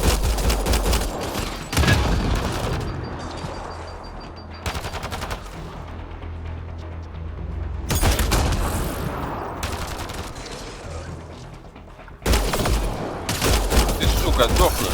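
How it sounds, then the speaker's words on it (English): Repeated gunfire bursts from a shootout in the video game Mass Effect Andromeda, loud and dense, coming in several heavy volleys with brief lulls between them. "Naya, shoot it!"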